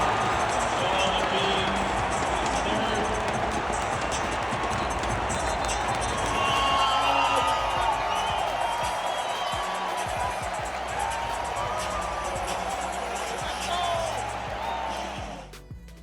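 Loud, dense roar of an arena crowd at a 76ers playoff game against the Celtics, cheering steadily throughout as Joel Embiid hypes them up, with scattered shouts and claps before fading at the end.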